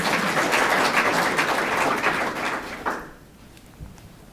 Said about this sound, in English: I would really appreciate it if you'd hold your applause.